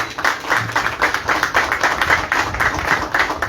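Audience clapping for a university rector at an integration day ceremony, a moderate, slightly rhythmic patter of hands that stays even and fairly close for the whole stretch.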